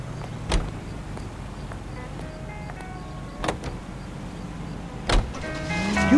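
A car in the video game L.A. Noire drives through the city with a steady engine hum and road noise, broken by a few sharp clicks and thumps.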